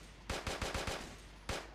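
Rapid volley of gunshots in a first-person shooter game, five quick cracks in a row followed by one more shot after a short pause, loud and close with no talk.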